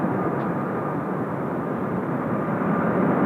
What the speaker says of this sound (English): Now there's our Korean Air in the new livery. Just taxiing for departure, heading our way.